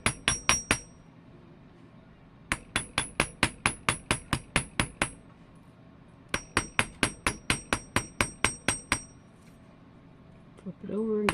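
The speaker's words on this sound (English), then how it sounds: "And again, I'm going to hammer the earring." A small hammer strikes a wire earring against a metal block in three rapid runs of sharp, ringing metallic taps, close and crisp, separated by brief pauses, with a voice beginning at the end.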